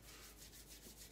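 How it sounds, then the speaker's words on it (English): Hands rubbed together during a qigong exercise, a soft, steady, close swishing friction that carries on without pause and with no talk. "Harvest our chi, rubbing our hands together."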